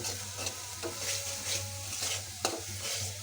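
Spice paste with green chillies frying and being stirred in oil in a pan, a continuous close sizzle broken by repeated scraping strokes of a spatula and an occasional sharp clink.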